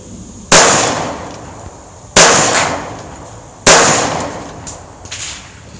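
Girsan 1911 pistol firing its last magazine of three rounds: three loud, sharp gunshots spaced about one and a half seconds apart, each followed by a short echoing decay, with a fainter clack afterward.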